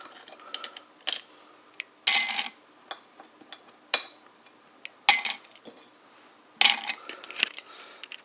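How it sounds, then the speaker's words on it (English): Ice cubes drop into a glass while making an iced Turtles hot chocolate, giving a series of sharp clinks and rattling clatters in uneven bursts, close and clear, with no talking. "First thing you gotta do is just put in the ice cubes."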